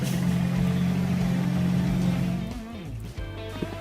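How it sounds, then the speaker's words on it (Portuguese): A Volkswagen Gol GTI engine holds a loud, steady droning rev, then the revs drop and it settles toward a rougher idle near the end. "Deixa ele roncar o motor."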